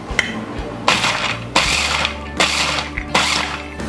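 Walnuts are ground in a blender for homemade pesto, several loud rattling, crunching pulses of a few seconds each, starting and stopping abruptly with brief pauses between.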